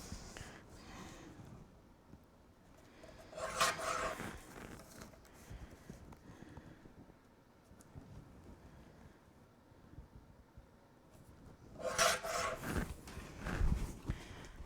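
Paper being cut to size for a Halloween-themed accordion-frame craft folio, two short bursts of cutting and sliding with quiet handling noise in between, close by and with no talk.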